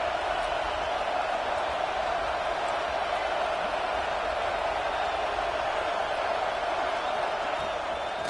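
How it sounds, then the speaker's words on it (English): Roaring stadium crowd from a football video game, a dense steady wall of cheering and noise that stays loud and unbroken throughout. "listen to this crowd noise. This stadium is vibrating"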